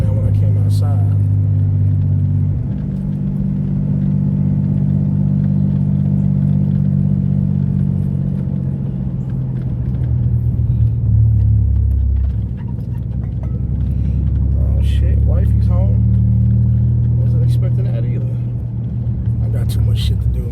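A Mitsubishi 3000GT SOHC idles close by with a deep, steady exhaust rumble that rises and dips slightly as it is revved. Talk runs over the engine.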